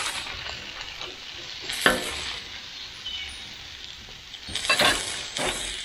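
Onion and jalapeno sizzle on an oiled griddle for a large homemade burger, a steady close hiss with a few sharp scrapes and clinks of a spatula.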